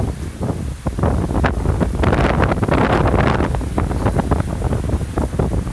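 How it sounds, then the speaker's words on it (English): Strong wind at Port Orleans Riverside in the aftermath of Hurricane Irma, roaring loud and constant across the microphone in heavy buffeting gusts. "I hope you can hear me, it's so windy"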